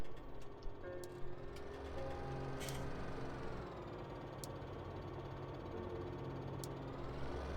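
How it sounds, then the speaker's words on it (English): A Deutz-Fahr tractor engine in Farming Simulator 17, a steady droning hum running continuously at moderate level, with a few faint clicks and no talking. "So here we will use one single tractor."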